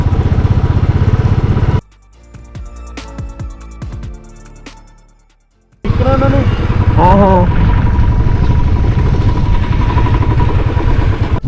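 A motorcycle engine climbing in first gear on a mountain road between Losar and Kunzum Pass drones loudly and steadily, cutting out briefly before roaring back, with a voice talking over it.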